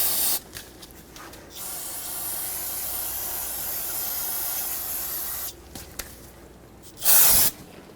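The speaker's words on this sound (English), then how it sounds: "I'm going to take some brake parts cleaner and clean it up." Brake parts cleaner sprays from an aerosol can onto a rear brake hose fitting of a 2007-2014 Chevrolet Silverado 2500 HD, a steady close hiss lasting several seconds, stopping briefly, then a short louder final burst.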